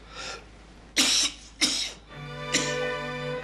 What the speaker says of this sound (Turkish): Bu öksürük çok üşütme öksürüğüne benzemiyor yalnız.